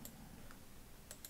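Computer keyboard keys pressed during CorelDRAW work, a few quiet, separate clicks spaced across a second over low room hum.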